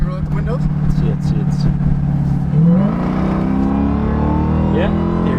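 A Hellcat Durango with its mid-muffler deleted revs inside the cabin, its engine note rising into a high supercharger whine while people talk over it.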